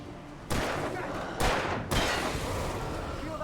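Three sharp gunshots ring out in Alan Wake Remastered, each a loud broadband crack at roughly half-second to one-second gaps, with dense noisy game ambience continuing between them.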